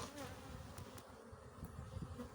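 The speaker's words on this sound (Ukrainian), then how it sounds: "бджоли дуже-дуже швидко рухають своїми крилами, через що й з'являється специфічний гул" A steady, dense buzzing of honeybees, continuous and fairly close, with a few brief louder passes over a low humming drone.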